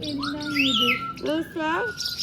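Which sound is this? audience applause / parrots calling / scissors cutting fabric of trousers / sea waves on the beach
parrots calling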